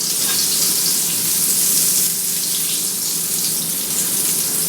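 Pads of butter melt in hot olive oil in a smoking-hot pan, giving a loud, continuous sizzling hiss close by with no talk.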